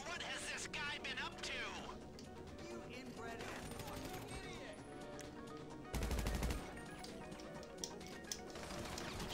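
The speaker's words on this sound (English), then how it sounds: "I just heard a gun shot" Bursts of rapid gunfire ring out in the video game GTA V, loud bursts layered over game sound and music, with players talking throughout.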